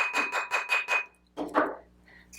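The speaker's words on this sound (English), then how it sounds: "it's going to harden a whole bunch by hammering it" A flat metal ring blank being hammered on a jewelry mandrel while being turned, five evenly spaced ringing metallic strikes, then a pause and two duller knocks, close and clear.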